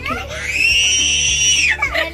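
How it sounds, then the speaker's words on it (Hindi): A young girl lets out a loud, sustained high-pitched scream while her grandfather teases her, the shriek holding steady for over a second before breaking off, close and piercing, with brief vocal sounds around it. "ये ऐसे छेड़ते हैं और वो इतनी तेज चिल्लाती है।"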